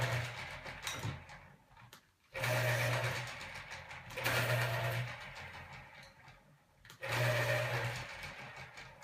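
Pencils being sharpened during a pencil sketching session: three separate bursts of a steady whirring buzz with quieter pauses between them, close and fairly loud, with no talking.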